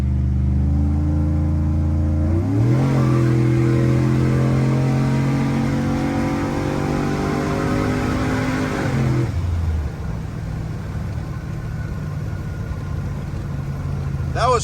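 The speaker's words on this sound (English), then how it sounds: "That was a strong second gear pull." A tuned Chevrolet Silverado truck making over 650 horsepower pulls hard in second gear, engine note climbing steadily for several seconds before the throttle lifts and it drops to a lower drone, heard from inside the cab.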